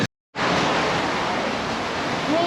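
Wave-pool surf at the Wild Waves theme park, a steady loud wash of churning water that starts abruptly after a brief silence and runs on without a break.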